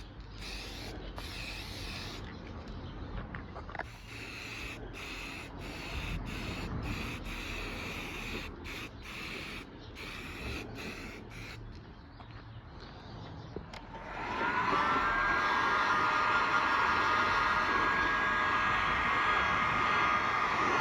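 Aerosol spray can laying a second thick coat of paint on Yamaha Virago 250 motorcycle parts, with short bursts of hissing spray and a louder continuous hiss near the end as the can sputters close by.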